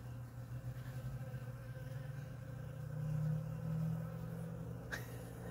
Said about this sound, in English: can hear all the bees.